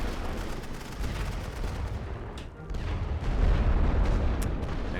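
Heavy artillery fire in a Great War video game on the Western Front at Champagne, a dense rumbling barrage of booms and blasts that grows louder toward the end with no talk over it.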